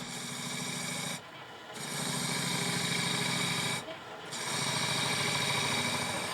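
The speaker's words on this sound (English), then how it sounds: "The woodturner judges where and how much is being carved by the amount and direction of the wood shavings coming off." A lathe turns a block of wood as a hand-held tool carves it, giving a steady, loud rubbing and hissing drone that breaks off twice for a moment and then resumes.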